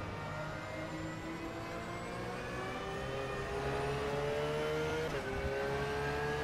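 A Porsche race car in rFactor 2 at Oschersleben revs high, a steady whining engine drone climbing in pitch with a brief shift near the end, heard alone without talking.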